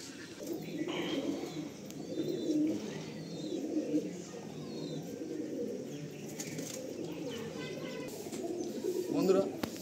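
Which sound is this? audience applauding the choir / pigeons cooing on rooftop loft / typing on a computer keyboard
pigeons cooing on rooftop loft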